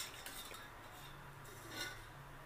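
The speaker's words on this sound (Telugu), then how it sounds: "ఇక్కడ నేను మజ్జిగ కలుపుకుంటున్నాను" Buttermilk being stirred into warm ragi malt, faint scraping of a spoon against a vessel with a soft clink, quiet and close, no talk.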